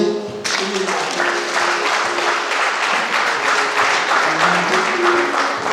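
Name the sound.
applause at church wedding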